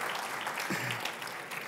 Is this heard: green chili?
no